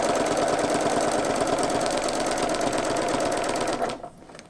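A sewing machine quilting a fabric wall hanging runs at a fast, steady rattling stitch rhythm, close and loud, then stops abruptly near the end, leaving near silence.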